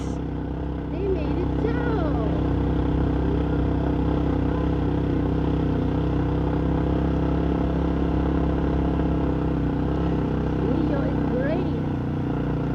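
A Yamaha Mio scooter engine drones steadily while climbing uphill, a close and continuous motor hum with faint wind noise.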